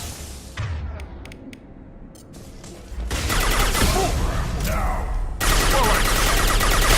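Sustained gunfire in the Mass Effect 2 Project Overload mission, dense rattling bursts and explosions that grow louder and continuous midway, with voices calling out under the combat noise.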